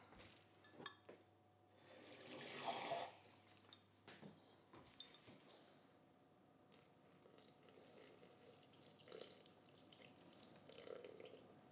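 Water pours into a Thermomix mixing bowl, a loud rushing splash lasting about two seconds, then fainter trickles and clinks against a steady kitchen hum.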